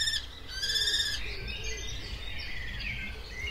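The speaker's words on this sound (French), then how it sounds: "la femelle appelle le mâle lorsqu'elle veut s'accoupler" A female common kestrel gives a run of high, thin, repeated calls to her mate, clear and fairly close against a quiet background of faint rustle.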